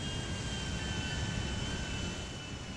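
Airplane engine in GTA 5 roars as a steady, loud, continuous drone with a faint high whine, no talking.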